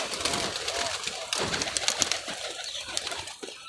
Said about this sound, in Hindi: ये आ रहा है कबूतर सीधा सीधा।